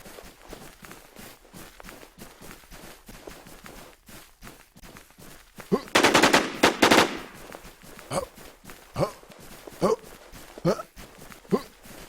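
Gunfire in the survival video game Infestation: a loud cluster of shots about halfway through stands out from quieter scattered clicks and steps, with someone talking over the game sounds.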